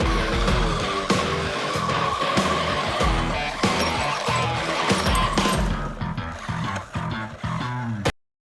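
A small brushed RC street basher car drifts, its electric motor whining and tires scrubbing and squealing in repeated bursts, loud and close before cutting off abruptly at the end.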